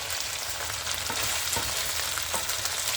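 Meat with onions and peppers fries in a pan, giving a steady close sizzle with faint stirring scrapes every so often.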